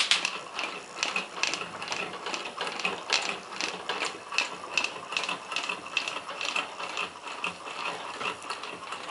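A small Stirling engine runs on an alcohol burner fuelled by a single cap of spirit, giving a steady, rapid mechanical clatter with regular ticking, fairly close and alone without talk.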